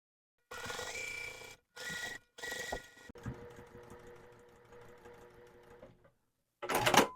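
A sewing machine runs along a seam of a quilt block in short bursts separated by brief pauses, then a longer, softer stretch of stitching, ending with a louder final burst; no talking is heard.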